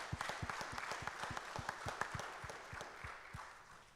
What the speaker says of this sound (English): So you should give him a round of applause and thank him for that.